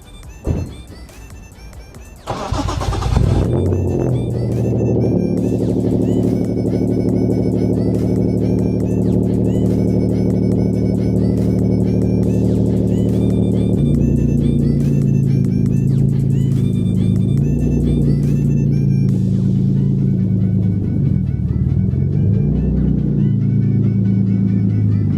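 A boosted Hyundai Genesis Coupe makes a cold start. After a short quiet crank, the engine catches with a loud burst, then settles into a loud, steady rumbling idle with slight wavering in pitch, heard close up.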